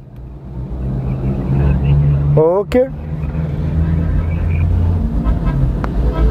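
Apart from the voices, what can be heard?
Honda Civic car engine running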